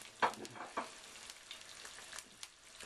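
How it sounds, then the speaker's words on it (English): An egg frying in a pan, with a faint, soft sizzle and a few light crackles and pops close by. "Just cooking the egg now, which will finalise the dish"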